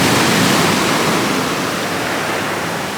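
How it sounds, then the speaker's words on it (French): Heavy ocean surf at Amed, Bali roars continuously, a dense wash of big crashing waves filling the whole stretch, loud and close with no voices. "Et il y a des sacrées vagues."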